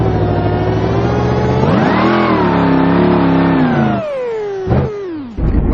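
Car engine in the BeamNG driving game cranking to life and revving hard, loud and continuous, with the pitch rising and falling through several throttle swells before cutting back near the end.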